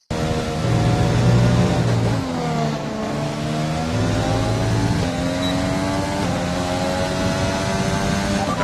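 F1 car engine from the F1 2020 racing game on a lap of the Red Bull Ring in Austria, a loud, continuous high-pitched whine rising through the gears with repeated shifts and revs, alone throughout.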